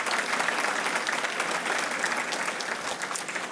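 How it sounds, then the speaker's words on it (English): A crowd at a public safety awards ceremony claps steadily and loudly throughout, a dense, continuous round of applause with no break. "Round of applause, please."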